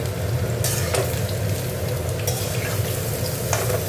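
Cauliflower stalks and potatoes fry together in oil, a loud continuous close-up sizzle broken by a few sharp stirring scrapes of a utensil against the pan.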